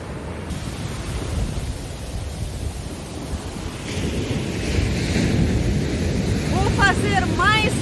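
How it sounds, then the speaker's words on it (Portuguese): Ocean surf at a beach in Trindade, RJ, Brazil, roars as a steady broad wash that swells louder midway, with wind buffeting the microphone and a few faint high squeaks near the end. "a onda tem muita força"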